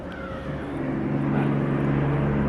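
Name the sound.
loud road traffic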